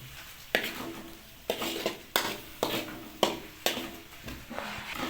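Spice masala with a little water being stirred in a pan for chicken liver, repeated sharp scrapes and knocks of a spoon against metal at a roughly regular pace over a soft sizzle, no talking.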